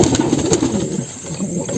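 Pigeons in a loft, mostly males alongside racers and white birds, give a short burst of close, overlapping throaty cooing with a faint flutter.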